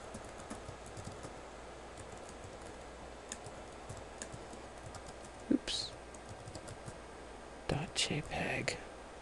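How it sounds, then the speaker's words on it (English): Soft keyboard typing ticks along in the background, with a few louder clicks and brief rustles near the end; a quiet voice may murmur. "by typing the address in here."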